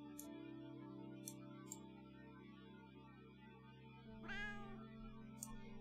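Cats meowing in a game: a drawn-out tonal cry runs under a steady background drone, with a brighter rising meow near the end and a few faint clicks.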